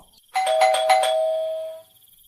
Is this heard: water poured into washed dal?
no